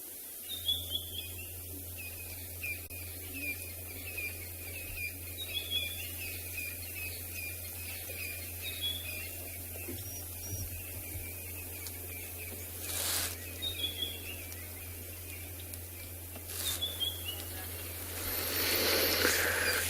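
Birds calling and singing after rain at sunset on a safari drive at Tswalu: repeated high chirps and short song phrases at moderate distance over a steady low rumble, with a brief rustle near the end.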